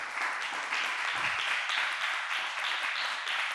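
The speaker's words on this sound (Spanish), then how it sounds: "Denle un aplauso al Señor Jesús." Steady, dense applause from a church congregation during a sermon, a continuous wash of clapping that holds at an even level throughout, with no voices on top.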